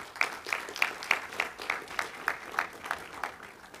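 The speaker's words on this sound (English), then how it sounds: "I just want to ask you to give them a round of applause right now." Faint, sparse applause at a board of education meeting honoring coaches and parents, a few hands clapping in a slow, regular rhythm, distant and thin.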